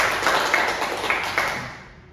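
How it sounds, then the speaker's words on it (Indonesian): A classroom audience claps together during an agricultural training session, a dense wash of hand claps heard fairly close, fading out toward the end. "Kan tepuk tangan semua"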